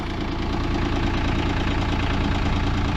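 Engine idling steadily just over 1,000 RPM while warming up, a loud, continuous low rumble with a slight knocking texture that holds even throughout, close and alone with no talk.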